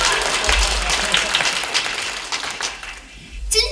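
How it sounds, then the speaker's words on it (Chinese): An audience at a comic crosstalk show during a Tsinghua alumni anniversary celebration bursts into applause, a dense wash of clapping that fades away after a few seconds before a brief rustle returns. "您呢是先鼓掌后欣赏。"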